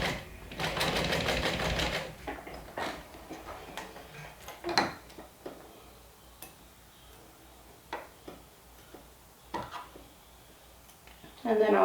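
A sewing machine runs a short burst of stitching on a bag strap near the start, followed by scattered clicks and handling knocks with faint talk in between.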